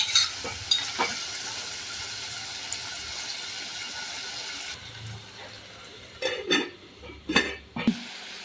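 Onions and shallots sautéing in a pan while a prawn roast is cooked, a soft steady sizzle with occasional scraping and stirring clicks from a utensil, growing busier toward the end.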